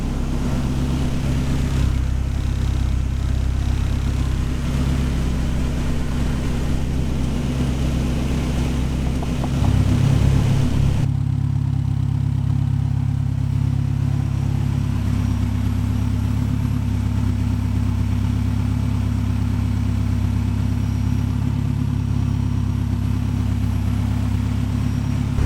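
A Saab 9-5 Aero idling after warming up to temperature, a steady low engine hum that changes tone partway through, then continues evenly, with no talk.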